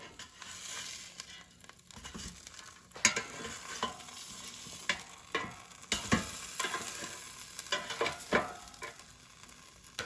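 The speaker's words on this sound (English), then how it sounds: "let's open the air fryer. And let's flip the steaks over" Ribeye steaks in an air fryer basket give a faint, steady sizzle punctuated by irregular clanks and scrapes as they are turned over, sounds close and moderately quiet.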